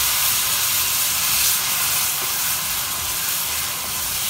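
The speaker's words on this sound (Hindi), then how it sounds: "टमाटर और हरी मिर्च मैंने काट के जो रखी थी वो हमने अच्छे से इसमें भूनना है" Tomatoes and green chillies frying in a pan with turmeric and garam masala for Marwari dal palak, giving a steady, close hissing sizzle that stays even from start to finish with no talking.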